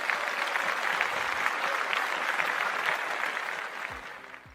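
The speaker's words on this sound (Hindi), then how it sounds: "सभी उनके लिए एक बार जोरदार तालियां बजाएंगे" An audience at a business and leadership seminar applauds steadily, a dense wash of many hands clapping at an even level throughout, thinning slightly at the very end.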